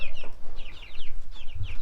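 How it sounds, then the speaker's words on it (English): A duck kept at an animal rescue calls out in rapid, loud, close quacks and squawks, repeated in quick bursts, alone with no talk. "this is a duck who thinks he's a dog"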